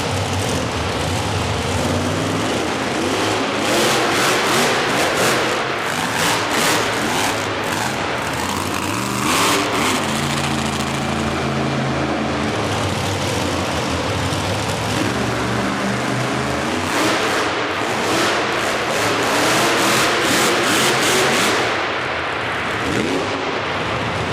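A monster truck engine roars loudly and steadily during a wheelie competition at a Monster Nationals event in Corbin, Kentucky, its revs rising and falling with no break.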